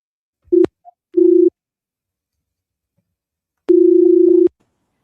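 A telephone ringback tone sounds while a call is being placed: a brief blip, a short steady tone, then a longer tone after a pause. It is loud and clean, with no voices.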